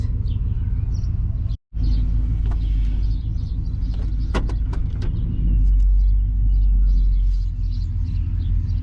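An old Chevy truck engine idles after starting, a loud, steady low rumble close by, broken by a brief dropout and swelling slightly near the end, with a few faint high ticks.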